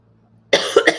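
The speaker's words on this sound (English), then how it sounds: "Sorry about the cough." A sudden adult cough, close and loud, in three quick bursts after a brief quiet moment.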